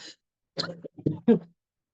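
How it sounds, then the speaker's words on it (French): A few rough, throaty coughs in quick succession, close by, with short silences between them. "Excusez-moi pour la toux."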